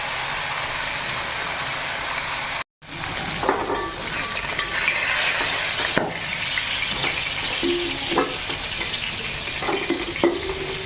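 Fish sizzles in a pan with a steady crackling hiss, broken by a brief dropout and occasional clinks and scrapes of a utensil stirring against the pan.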